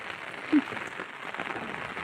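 Steady hiss of the first monsoon rain of Sawan falling outdoors, a continuous broadband wash of drops with no clear breaks and one brief soft knock early on.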